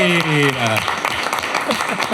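Studio audience applause greets a guest on a food podcast, the clapping rising beneath a fading musical sting and continuing steadily to the end.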